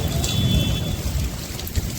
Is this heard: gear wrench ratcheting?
no